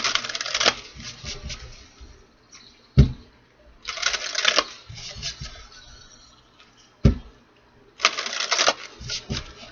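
Cards shuffled by hand during a tarot reading, three bursts of riffling spaced a few seconds apart, each capped by a sharp tap as the deck is squared, close and fairly quiet.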